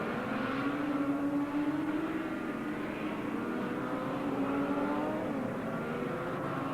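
Racing motorcycles on Pirelli, Dunlop and Avon tyres, including a Yamaha FZ750, at Oran Park in 1986, a steady engine roar that drones on throughout, rising and falling slightly in pitch as the bikes run.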